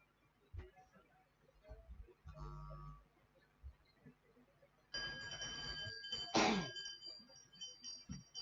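A hand bell rings out to signal the final lap in a heat of the 600 m heptathlon race at a national track meet, a bright, clanging burst of several seconds with crowd noise around it.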